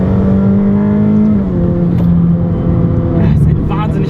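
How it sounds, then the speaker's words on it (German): A Ferrari F8 Tributo turbo engine drones loudly and up close, its pitch dipping briefly and then holding as it revs. "Es macht wahnsinnig Spaß, den Motor zu drehen."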